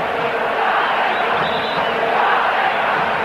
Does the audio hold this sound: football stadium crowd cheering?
yes